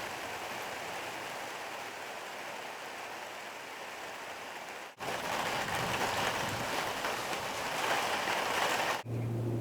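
Steady, dense hiss of rain falling, constant and fairly close, with a brief dip in the middle and again near the end.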